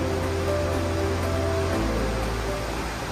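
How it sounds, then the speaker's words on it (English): Roaring white water rapids of the Niagara River, heard from the end of an underground tunnel: a dense, unbroken wash of rushing water holding steady throughout, with no talk. "you will already hear this roaring sound of the white water"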